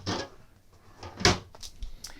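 Several short wooden knocks and soft bumps as cabinet drawers and doors slide open and shut nearby aboard a 50-foot Mikelson sportfishing yacht, spaced irregularly with quiet gaps between.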